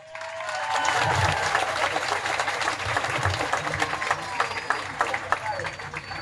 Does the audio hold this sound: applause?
yes